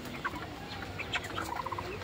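Chickens on a small poultry farm, several close clucks in quick irregular bursts over a low background murmur.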